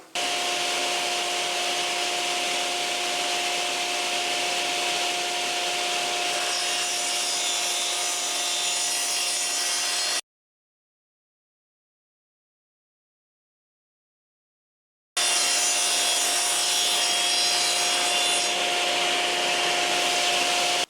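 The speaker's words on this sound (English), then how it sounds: "Now there is an added risk because I've removed the saw guard and installed my riving knife" A Shopsmith Mark 7 set up as a table saw, with the blade guard removed and a riving knife fitted, whines steadily while cutting 1.5-inch wood boards, a loud sustained motor drone with a silent gap midway before resuming.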